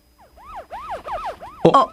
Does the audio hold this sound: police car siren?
yes